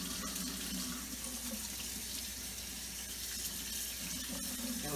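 Tap water runs in a steady, close splashing stream as a bone-in pork roast is rinsed in a sink, with no talk.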